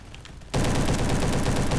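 After a brief quiet moment, an SM-03 submachine gun in Roblox Bad Business opens up in a loud, continuous rapid-fire burst that lasts to the end.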